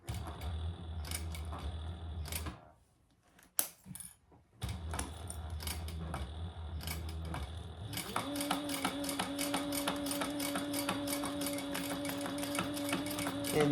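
Sewing machine back stitching through cork or vinyl on a beginner eyeglass case, steady rapid mechanical whirring that cuts out briefly, then returns louder with a sustained motor hum and rhythmic needle clatter, close up and without talk.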